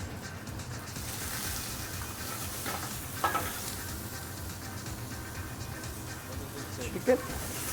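Garlic and chicken frying in very hot oil for molcajete in a Mexican café kitchen, a steady broad sizzle running throughout with a couple of brief clanks of stirring, while people talk nearby.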